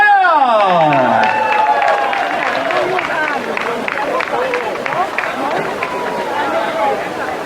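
A crowd at a long outdoor table festival on a church square in Cologne applauds and cheers for the band, a dense wash of clapping and voices sustained throughout after a fading musical chord.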